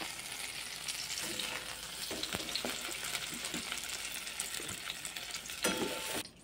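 Eggplant slices frying in a wok (kadai) in hot oil, a continuous close sizzle broken by soft scraping and clinks as the pieces are turned, with no voices.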